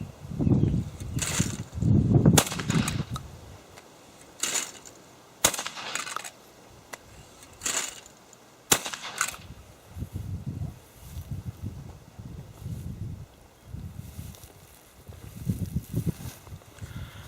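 Fabarm XLR5 Waterfowler semi-automatic shotgun firing at clay targets outdoors: several loud, sharp shots in uneven succession, with rustling and handling noise between them and no talk.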